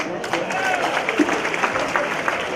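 Audience at an annual charity gala applauding and making noise after a guest is introduced, a dense, steady wash of clapping and crowd murmur that holds for the whole stretch.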